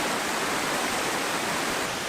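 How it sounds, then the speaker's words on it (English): A loud, roaring waterfall at its biggest, most violent part fills the air with a steady, dense rush of crashing water, constant and close. "The biggest, loudest and the most violent part of the waterfall."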